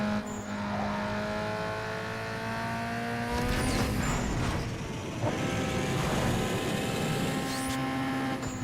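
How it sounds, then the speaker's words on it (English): A tuned car in Need For Speed: Underground 2 revs with a steady harmonic engine whine, then bursts of crackling, popping exhaust noise around the middle and latter half, fairly loud and close. "it'll make the nice fun pop crackle sounds from the exhaust"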